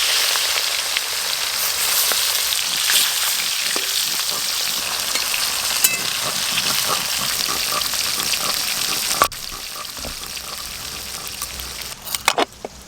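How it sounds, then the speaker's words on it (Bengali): Pieces of shol fish frying in hot oil, a loud, dense, continuous sizzle heard up close for several seconds, easing slightly near the end with a few sharp pops and clinks. "এবার মাছের পিসগুলো ভেজে নেব।"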